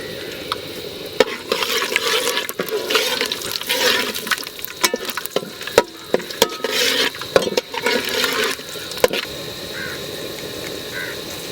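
Garlic sizzles steadily in hot groundnut oil with fenugreek seeds and curry leaves for a village-style fish curry, with sharp clicks and scrapes of a spoon stirring the pan throughout.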